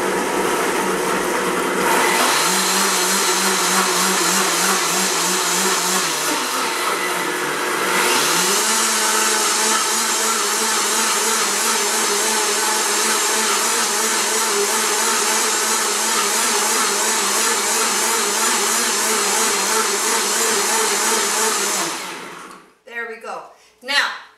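Electric mixer beating thick gluten-free bread batter, a loud continuous whirring drone with the pitch dipping and rising as the beaters labor, running about twenty seconds before it cuts off and a few clunks follow.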